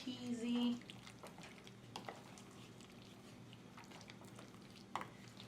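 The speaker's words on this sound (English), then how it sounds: "I'm just gonna stir this all up and let it get nice and creamy" Creamy bacon mac and cheese made with lupin pasta being stirred in a pot, giving soft, faint scraping and gloopy stirring sounds with a few light knocks against the pot.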